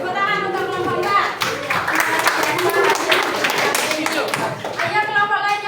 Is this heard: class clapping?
yes